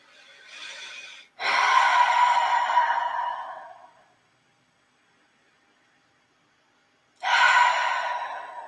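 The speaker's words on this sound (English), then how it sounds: "So just taking a couple of deep breaths in and out." A few deep breaths during a guided meditation: a soft inhale, then a long, full exhale, a pause of silence, and another breath starting, close and clear with no talking.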